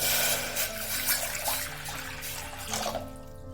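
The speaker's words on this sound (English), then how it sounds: "Add some water." Water pours steadily into a cooking pot while a Manipuri gongura soup, sougri kangshoi, is made without oil, a close continuous splashing that thins out near the end.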